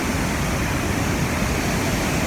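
A steady, powerful roar of cascading water at Iguaçu Falls, a thick continuous hiss and rumble heard up close with no pauses.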